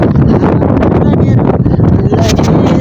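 Strong wind buffets the microphone outdoors on a breezy hillside near a resting platform, a loud continuous rumbling roar with gusty swells throughout.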